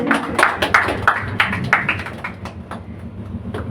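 Audience at a medical camp event clapping, a dense patter of hand claps that starts strong and gradually thins to scattered claps, no talk heard.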